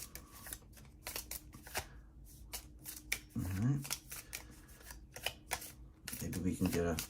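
A deck of cards riffled and shuffled mid-game in a Marvel Legendary deck-building match, crisp papery bursts repeating close by, with a voice talking briefly over them.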